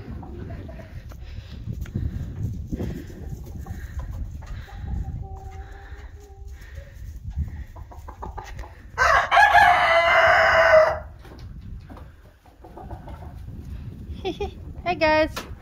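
Chickens clucking around a farm coop and barn on a homestead, with a loud rooster crow rising near the middle, soft clucks and outdoor ambience throughout and people talking nearby.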